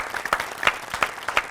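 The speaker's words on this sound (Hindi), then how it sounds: "एक दफ़ा फिर बहुत सारी तालियों में खुशामदीद" A studio audience on a television program claps to welcome guests, with brief bursts of clapping from a small group rising and falling in quick succession over a couple of seconds.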